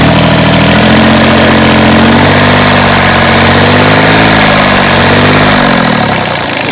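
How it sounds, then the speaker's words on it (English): A yacht engine, running during flushing and winterising, is revved close up, its loud continuous drone rising and shifting in pitch before easing back near the end, with no voices. "If I rev the engine,"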